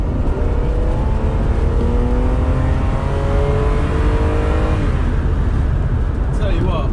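A Ferrari is driven and accelerates, its engine roaring loudly and climbing in pitch through the gears under constant road and wind noise, heard from inside the car.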